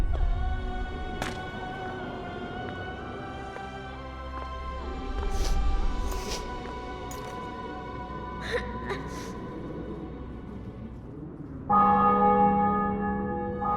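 Church bells tolling over a captured castle and city in a dark fantasy video game, resonant sustained peals ringing out with layered overtones, joined by a brighter, louder burst of bells near the end.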